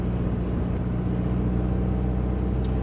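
A 1986 Citroën BX Sport with a carburetted engine under acceleration, heard as a steady, droning low engine rumble from inside the car, continuous and fairly loud without clear changes in pitch.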